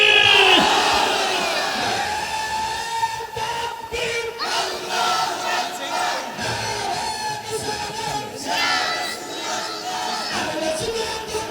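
A large crowd at an outdoor Islamic sermon gathering chants Allahu Akbar back to a preacher, many voices merging into loud, sustained, echoing shouts that rise and fall in repeated waves over a reverberant public-address sound.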